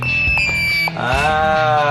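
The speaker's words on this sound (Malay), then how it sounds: "Cuba bunyikan buzzer dulu." A loud, steady electronic buzzer tone from a table buzzer at a robotics club sounds continuously with a brief dip, then resumes with a shifting pitch, close and insistent.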